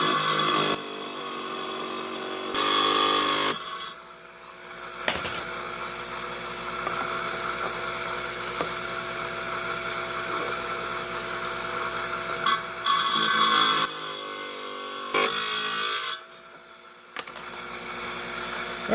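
Trimming a piece of banded amethyst on a lapidary saw, a steady high whining grind running throughout, with short louder bursts at the start and near the end as the blade bites into the stone.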